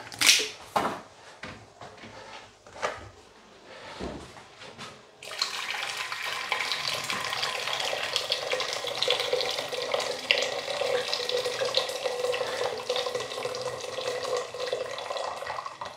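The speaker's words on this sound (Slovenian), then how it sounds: "Znači, ovo je vruća voda" Hot water gushes steadily from a kitchen tap into a cooking pot, a loud continuous rush after a few seconds of clatter and handling noises.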